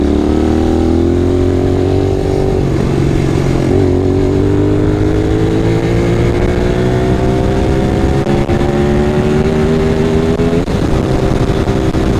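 A Honda VTR 250 motorcycle engine revs up loud and close, its pitch climbing steadily through the gears with brief dips at each shift.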